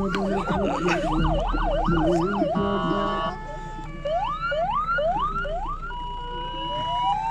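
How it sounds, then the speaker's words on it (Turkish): Wailing siren outside during an off-road outing in harsh winter conditions, sweeping up and down in fast cycles then switching to slower rising whoops and long tones, loud and steady. "burada siren çalıyor."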